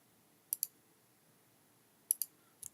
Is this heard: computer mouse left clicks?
yes